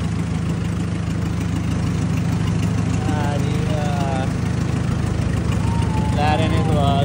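Tractor engine idling and running on a flooded village road in Shahabad Markanda, a steady low rumble with mechanical hum, close and continuous, with faint voices and whistles over it.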